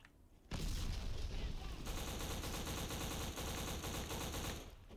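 Rapid bursts of gunfire rattle continuously in the video game Black, with heavy booming explosions mixed in, loud and dense after a brief quiet start.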